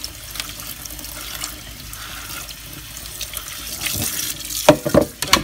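Tap water runs steadily over freshly picked beautyberries being rinsed of ants and leafhoppers, a continuous close splash with a few louder clattering bursts near the end as the berries are handled.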